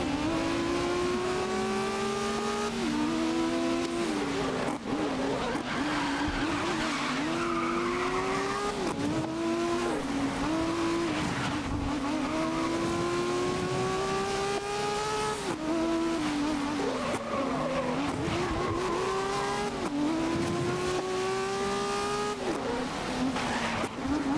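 Race car engine in GRID (2019) roaring loud and close through repeated upshifts, pitch climbing and dropping with each gear change, with tire squeal and skidding through corners over a continuous racing drone.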